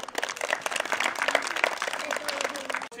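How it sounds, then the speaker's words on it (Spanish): An audience applauds for Lila on a Spanish-language police children's show, steady clapping throughout with some voices mixed in, cutting off sharply near the end. "le damos un fuerte aplauso a Lila"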